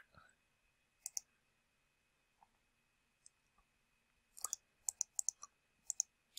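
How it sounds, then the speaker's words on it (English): Crisp computer mouse clicks, quiet and close, a couple of scattered single clicks followed by a quick irregular flurry of rapid clicking, with faint talk underneath. "Just going to click all over the place."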